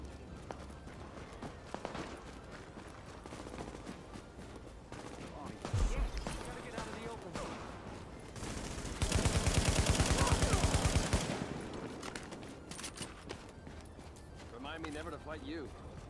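A gun in The Division fires a loud sustained burst mid-clip, preceded by a single heavy shot, set against a busy game soundscape with voices talking.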